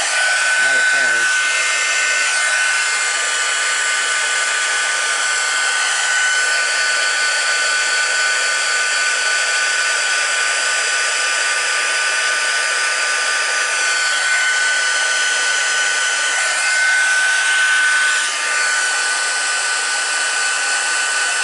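A steady, loud mechanical whir like a hair dryer runs without a break, with a faint high whine on top.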